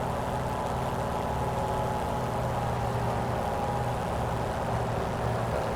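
Hawker Hurricane Mk1 engine in a flight simulator running at 2,500 RPM during a cold start demo, a steady dense droning rumble that stays even and loud throughout.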